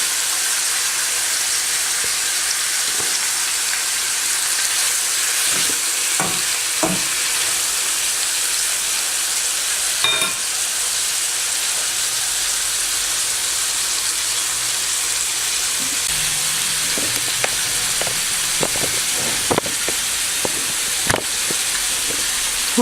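Ginger and garlic frying in oil in a pan for Afghani pulao, a steady bright sizzle throughout with occasional soft clicks and scrapes of stirring, close and continuous with no talking.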